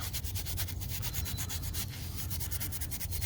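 A plastic part for a Honda CRX climate control conversion is scuffed by hand with a rapid back-and-forth rubbing rhythm, close and steady, with no speech.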